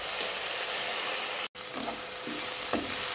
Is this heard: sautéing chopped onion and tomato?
yes